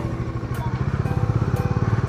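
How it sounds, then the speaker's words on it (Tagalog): A motorcycle engine runs close by with a steady, throbbing pulse that grows slightly louder as it passes on a narrow one-way street near Mabalacat market, with no talk over it. "Alam niyo nang may motor."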